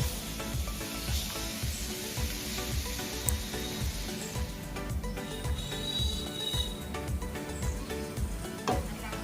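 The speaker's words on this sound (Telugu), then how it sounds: "ఇలా బటర్ మెల్ట్ అయిన తర్వాత మ్యారినేట్ చేసి పెట్టుకున్న పన్నీర్ని 2 వైపులా కొద్దిగా కలర్ చేంజ్ అయ్యే వరకు కుక్ చేసుకుంటే సరిపోతుంది." Marinated paneer frying in melted butter in a pan, a dense continuous crackling sizzle with busy popping throughout, close and steady, no one talking.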